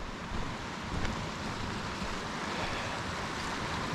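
The River Lyd on Dartmoor rushes along in a steady, broad hiss of flowing water, close and continuous, with faint wind buffeting and no voices.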